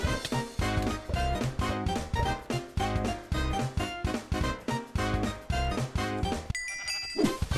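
Sheep bleating in a video game, a rapid repeated run of loud, close bleats in steady rhythm, with a short pause and a high chime near the end.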